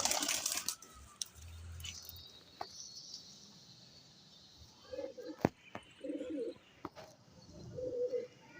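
Soft, low cooing from pigeons in several short bursts, close by, with faint rustles and clicks between the calls.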